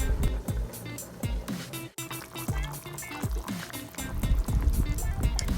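Okra and spinach drop into a pot of boiling salted water, giving a close splashing and sloshing with bubbling and bumping sounds throughout.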